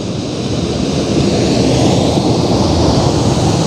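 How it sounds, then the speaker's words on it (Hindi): The Indravati River pours continuously over a waterfall, a loud, steady, close broadband roar with no break and no voices. "जिसमें इंद्रावती नदी का पानी जलप्रपात के रूप में अनवरत गिर रहा"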